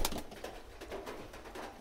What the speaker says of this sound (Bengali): আর কবুতরগুলো দেখেন কিভাবে খাবারটা খাইতে আছে